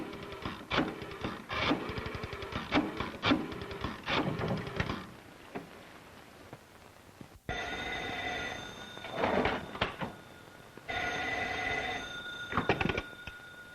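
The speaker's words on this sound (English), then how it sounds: "Call Garrick. If he's in, hang up" Old-fashioned telephone bell ringing on the far end of a placed call in a 1945 mystery film, harsh metallic rings in repeated bursts with pauses between them and no talk over them.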